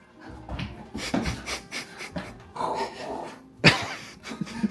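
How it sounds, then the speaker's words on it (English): A dog named Riff pants and snuffles close by inside a retro video game store, with a string of quick breathy huffs and one sharper snort near the end. "I was trying to pet your dog."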